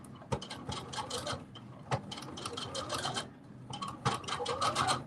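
Sewing machine stitching a fabric face mask, an uneven mechanical whirring run in short bursts with sharp clicks between them, close and moderately quiet.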